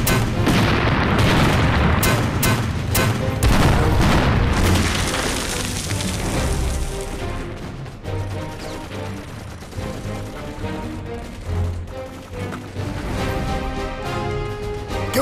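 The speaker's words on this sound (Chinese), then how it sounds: "继续轰！ 把敌人的碉堡给我炸烂了！" An improved cannon fires repeatedly at an enemy bunker in a war drama battle scene, loud booming blasts and explosions in quick succession, followed by a lower rumbling aftermath of distant impacts.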